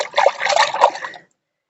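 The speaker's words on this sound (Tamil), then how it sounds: "தண்ணியில போட்டுவிட்டு இப்படியே கலந்து விட்டுறலாம்" Kitchen-waste paste stirred by hand into a container of water, a brief close liquid swirl and slosh lasting about a second before stopping.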